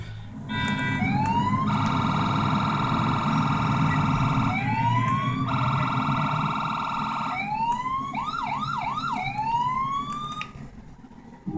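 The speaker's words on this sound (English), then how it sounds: "the sirens from the FIB Buffalo from Grand Theft Auto" Police sirens of the FIB Buffalo car in the video game Grand Theft Auto, loud and close, switching between a steady wail, rising whoops and a fast yelp pattern over a constant engine-like drone.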